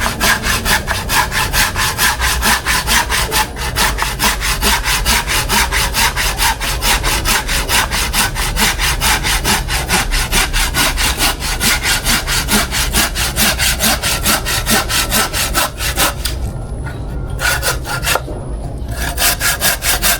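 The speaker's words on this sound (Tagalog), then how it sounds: "Matalas ang iyong lagari." A hand saw cuts through wood in fast, steady back-and-forth strokes, loud and close, continuing without pause with brief gaps near the end.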